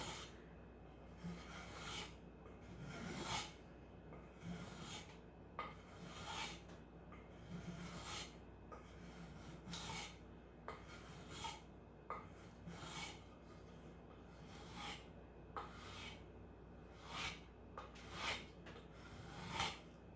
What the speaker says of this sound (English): set the plane aside and shape that with sandpaper